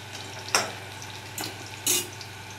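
Spices tipped into roasted peas frying in a pan give three short bursts of sizzle and stirring, close and fairly loud, over a steady low hum.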